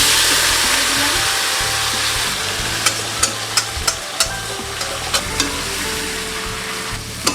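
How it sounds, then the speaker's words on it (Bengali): Marinated meat for Golbari-style kosha mangsho frying with whole garam masala spices in a pan: a loud, steady sizzle runs throughout, punctuated by regular sharp clinks and scrapes of a stirring spoon, with no voices. "এবার এর মধ্যে ম্যারিনেট করে রাখা মাংসটা দিয়ে দেবো"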